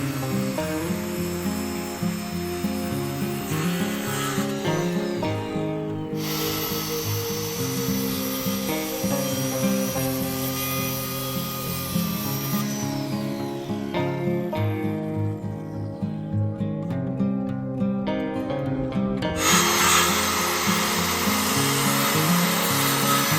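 Power tools whine and buzz through wood while building a chicken coop, in long continuous runs, changing pitch as they cut, with brief pauses between passes.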